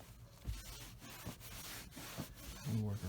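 A microfiber cloth rubs over leather car seats sprayed with Meguiar's Rich Leather Cleaner and Conditioner, giving soft, close scrubbing swishes in uneven strokes with a brief louder squeak near the end.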